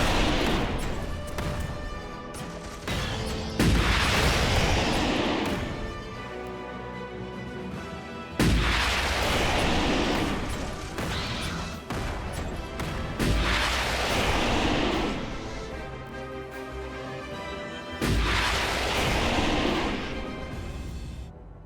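Artillery and gunfire pound in Starship Troopers: Terran Command as gun batteries fire on bug hordes, loud booming salvos recurring every few seconds over a continuous roar of battle.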